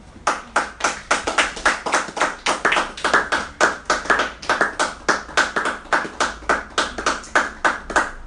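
A church congregation claps in a steady rhythmic beat, around thirty sharp, evenly spaced claps over eight seconds, loud and close with no talking.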